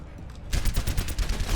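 Rapid bursts of video game gunfire crackle in a dense, continuous volley, quiet at first and then loud and close from about half a second on.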